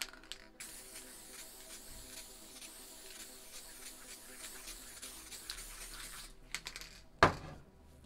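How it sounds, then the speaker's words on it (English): A spray can applying clear coat over paint on a spray-painted mountain scene, giving a steady close hiss that runs for several seconds, then breaks into short bursts and a sharp click near the end. "I'm going to use some clear coat to wet this paint back up"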